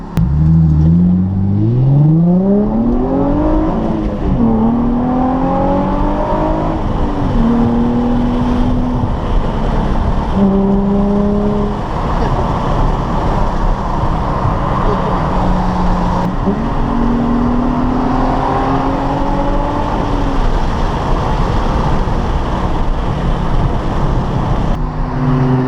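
A Ferrari F430 or Nissan 350z sports car engine revs loudly and continuously nearby, its pitch sweeping up and down through several rises and drops as the throttle is blipped, steady roar throughout.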